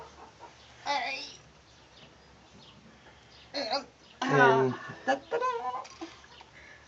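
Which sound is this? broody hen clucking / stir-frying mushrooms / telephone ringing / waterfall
broody hen clucking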